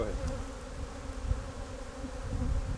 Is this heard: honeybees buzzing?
yes